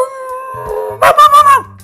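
A voice imitates a dog, giving a few short, loud barking yelps in a quick row after a longer drawn-out whining tone.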